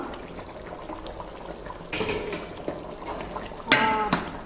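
Chicken gravy bubbles in a pot at a low simmer. Soft bubbling stays in the background, broken twice by brief, louder clatters and splashes.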